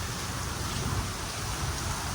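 Steady rain falls in a soft, even hiss with a low rumbling undertone, fairly quiet and continuous, with no one talking.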